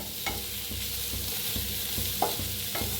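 Onions fry in mustard oil in a pan with a constant sizzle. A utensil scrapes and stirs at a fairly regular rhythm, several strokes over three seconds.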